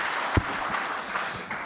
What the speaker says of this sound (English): Please give him the biggest round of applause,